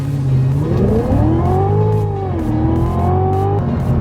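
A 2017 Cadillac CTS-V in track mode with traction control off accelerates on a desert race track, its engine loud and close, rising in pitch through the gears with brief dips at each shift.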